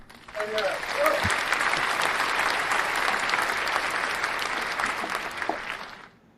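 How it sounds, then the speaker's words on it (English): A crowd breaks into steady applause that holds for several seconds, with a brief voice at the start, then fades out. "let's just go ahead and give Angela a round of applause"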